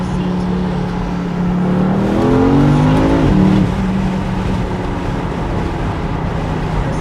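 A loud Porsche Panamera engine revs up and settles back into a throaty exhaust drone with crackles and pops, close by, with a rising and falling pitch sweep in the middle.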